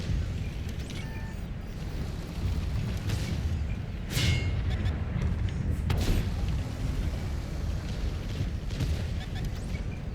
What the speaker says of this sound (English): I'm ammo racked